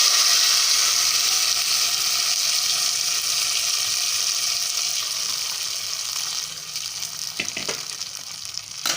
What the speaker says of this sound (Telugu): తాలింపు పప్పులో వేసాను.